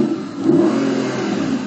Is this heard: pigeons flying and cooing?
no